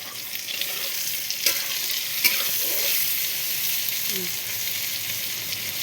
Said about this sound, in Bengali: এই যে বেগুন ভাজা হচ্ছে।